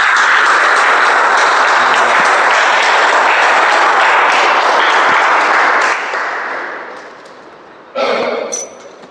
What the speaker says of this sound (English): Can we do a better round of applause for him while he adjusts the mic?